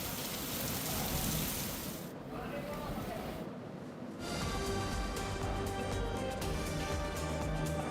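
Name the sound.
heavy unseasonal rain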